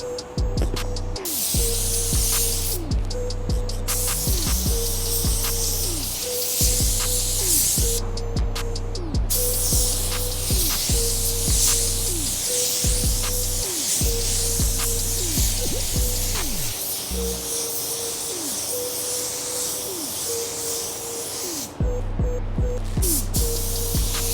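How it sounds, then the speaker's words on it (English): A spray gun painting a car hisses steadily and loudly for a long stretch, broken by brief pauses, with a rhythmic mechanical pulsing underneath. "So we'll start doing our spray out, and then I'll start spraying the whole"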